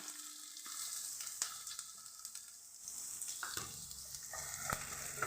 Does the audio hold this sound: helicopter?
no